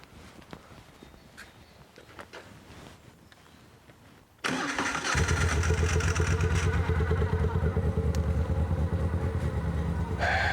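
A motorcycle engine starts after a few seconds of quiet rustling, then settles into a loud, steady idle for warming up, with a slight rise in revs near the end.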